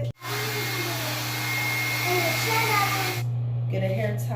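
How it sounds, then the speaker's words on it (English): A hair dryer blows steadily on hair being dried after conditioning, a loud continuous broadband whoosh with a low hum that runs nearly four seconds, cuts off near the end, and leaves faint voices and household noise. "I'm about to blow dry it"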